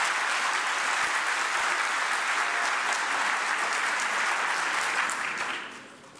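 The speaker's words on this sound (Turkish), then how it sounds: "Ya gür bir alkış istiyorum arkadaşlar ya" Seminar audience breaking into loud, sustained applause, a dense roar of many hands clapping that holds steady for several seconds and then fades out at the end.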